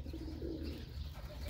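Pigeons coo softly in a low, throaty, repeating rumble while being fed grain outdoors, a close flock murmuring steadily with no talk over it.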